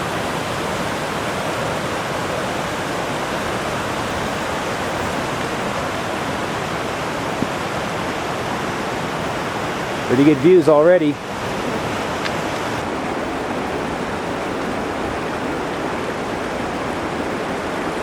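Main creek flowing out of Darwin Canyon keeps up a constant close hiss and roar, with someone speaking briefly over it partway through before the water carries on alone.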